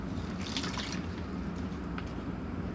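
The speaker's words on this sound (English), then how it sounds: "pour into the stomacher bag" Saline solution pours from a bottle into a plastic stomacher bag in a food microbiology lab, a light trickling and dripping under a steady background hiss, with no talk.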